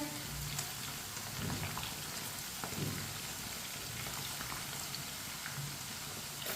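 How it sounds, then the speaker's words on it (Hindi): Chicken pieces fry and brown in a pan while a spoon stirs them, giving a steady, even sizzle with faint scrapes and knocks from the spoon and no talking. "इसी तरह चम्मच चलाते हुए हल्का सा ब्राउन करेंगे चिकन को।"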